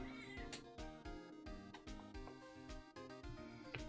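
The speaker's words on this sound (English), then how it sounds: "What are you meowing about?" A pet cat meows repeatedly and softly in rhythmic bursts, sounding close but faint, layered with tonal game music in the background.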